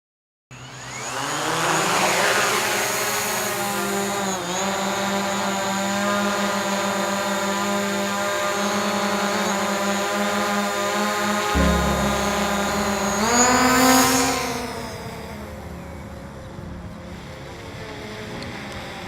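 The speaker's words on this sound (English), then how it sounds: "So the drone's now in the air." A drone lifts off and hovers over an open field, a loud steady whining buzz of its propellers that rises and shifts in pitch as it climbs and moves, with wind rushing in the background and no speech.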